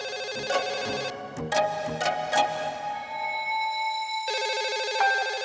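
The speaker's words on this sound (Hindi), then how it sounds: "अरे कोई तो फोन उठा लो" A telephone rings repeatedly with electronic, warbling tones, loud and close, the ring pattern changing partway through.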